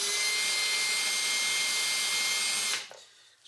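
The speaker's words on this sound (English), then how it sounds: "we want to drill it slow, and we want to frequently check the depth" A power drill whines steadily and loudly as it bores slowly into the metal body of a 1965 Mustang Fastback, then cuts off abruptly near the end.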